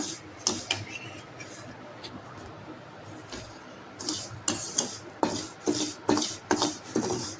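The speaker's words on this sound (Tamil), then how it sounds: "அரிசியை வறுத்துக்குவோம்." Rice dry-roasting in a hot pan for black gram porridge, with sparse scraping strokes at first, then a rapid run of rhythmic rasping stirs, close and moderately loud.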